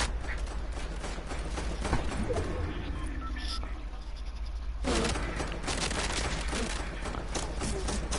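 Rapid bursts of gunfire in a multiplayer shooter video game, loud and dense, with volleys running back to back and a brief lull in the middle before the shooting resumes.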